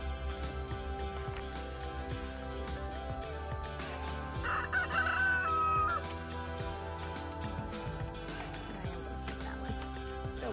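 Roosters crow over a steady outdoor background while being fed okra, one drawn-out crow standing out near the middle, moderately close and otherwise without talk.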